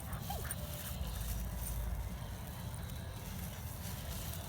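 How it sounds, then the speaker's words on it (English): A playful dog whimpers with a small yip near the start, fairly faint against a steady low rumble of room noise throughout. "Just because it's a playful dog."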